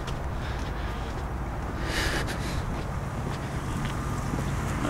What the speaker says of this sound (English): The wind is blowing again.